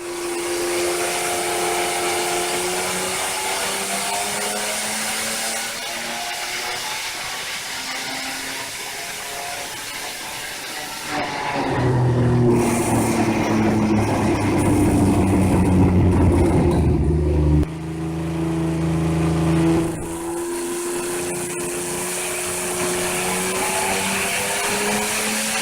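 A car engine revs hard on a dyno, with long sustained pulls whose harmonics climb steadily in pitch, a louder roaring surge midway, then another rising run, loud and close.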